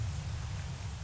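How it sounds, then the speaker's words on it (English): Steady ambient rain noise from an online white-noise mixer, a dense even hiss with a heavier low rumble underneath, unbroken and constant at moderate loudness with no speech. "Ambient rain sounds"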